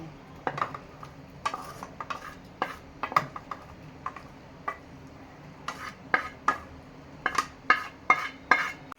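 Fresh green masala paste of ginger and garlic added to a pan and stirred for a Telangana-style taro root curry, with a scatter of sharp metal spoon scrapes and clinks against the pan, loudest near the end.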